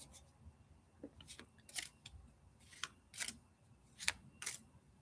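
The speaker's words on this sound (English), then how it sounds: "I want to mix the cards up very well" Tarot cards shuffled by hand in a quiet room, with sharp papery riffles and slaps that come in separate bursts of uneven rhythm, close and fairly soft.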